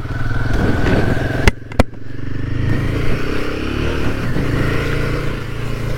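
A Royal Enfield Himalayan 450 engine runs loud and close with a steady, throbbing drone, interrupted briefly by two sharp clacks before the rumble carries on evenly to the end.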